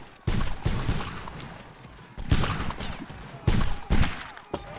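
Rifle volleys crack out in a video game battle, several loud bursts of layered gunfire a second or two apart over a rumbling background.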